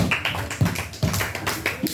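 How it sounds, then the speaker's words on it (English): A few scattered handclaps from a class of students in a classroom, sharp and close, spaced irregularly rather than building into full applause. "Y'all clap it out for that brother right there."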